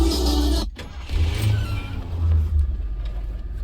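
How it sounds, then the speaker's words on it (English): A car fitted with an aftermarket amplifier and radio cranks briefly and fires up into a low rumbling idle. Music plays from the stereo before the start, and the engine drone continues close and steady afterward. "Start the car."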